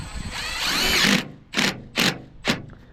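Milwaukee M12 cordless power tool running in a long whirring burst followed by three short bursts, close and fairly loud, with no talk.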